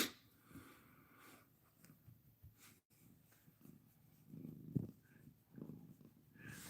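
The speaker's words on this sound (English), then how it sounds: "We're just going to listen to Max purr here for a little bit." A rescued domestic cat purrs softly up close in a quiet room, a faint, low rumbling rhythm that swells and fades with its breathing.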